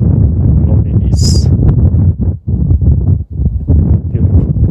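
Wind sweeping across an open wheat field at Auvers-sur-Oise, France, making a steady, loud low rumble and buffeting against the microphone, with a brief high chirp partway through.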